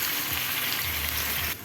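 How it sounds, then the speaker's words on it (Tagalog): Garlic and onion sautéing in a hot pan for pork hamonado, a steady, dense sizzle close up with no voices, holding evenly before dropping off slightly at the end. "ngayon guys, magigis tayo ng bawang at sibuyas"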